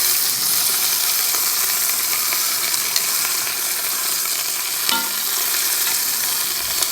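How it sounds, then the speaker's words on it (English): Onions and garlic fry in olive oil in a pan with a steady, continuous sizzle, broken by a faint clink of utensil near the five-second mark. "we'll chuck the onions and garlic in with it to fry them up a bit"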